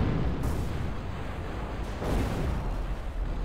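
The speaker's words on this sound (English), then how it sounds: "Yeah, all the artillery coming in." Artillery fire and explosions roll through a Zero-K strategy game battle, a dense, continuous wall of booming impacts with periodic heavier bursts and no voices.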